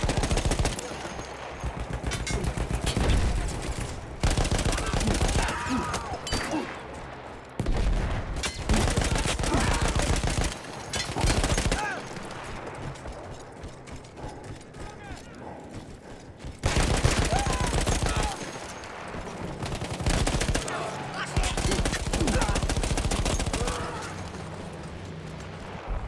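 Heavy mounted machine gun fire from a Battlefield 1 battle, a gun once manned by Austro-Hungarian troops: loud, dense sustained bursts with short breaks, mixed with battle noise and explosions.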